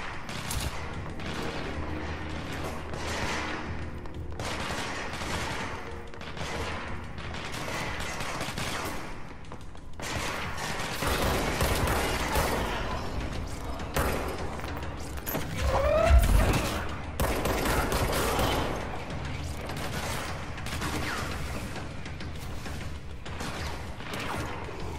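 Gunfire from several shooters in a chaotic firefight in the video game Control, with steady overlapping shots and bursts throughout and a louder flurry around the middle, no talking.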